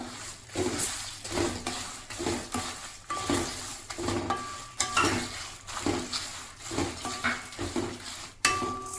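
Coriander seeds, urad dal and chana dal are stirred in a pan over low flame, a utensil scraping and clinking rhythmically against the metal while the seeds rattle and lightly sizzle, close and steady.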